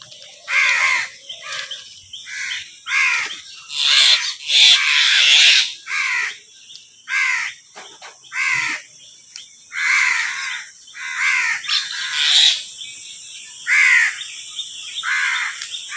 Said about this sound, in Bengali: সকাল সকাল পাখিদেরকে খেতে দিয়ে দিলাম